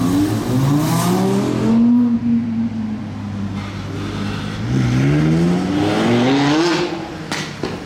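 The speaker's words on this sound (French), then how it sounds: "Oh, le bruit de cette R8" The V12 of an Audi R8 MTM GT Street roars and revs loudly nearby at a street carspotting spot, its exhaust pitch rising and falling over several seconds of continuous engine noise without speech.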